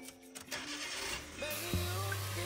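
A car engine fitted with a newly replaced alternator cranks and catches, then settles into a steady idle, heard up close at moderate volume.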